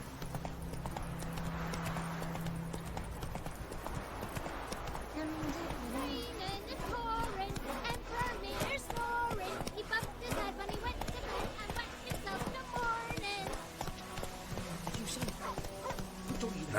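Roach, a horse in The Witcher 3, gallops with steady hoof clip-clops running through a busy game soundscape, with a voice speaking over the hoofbeats.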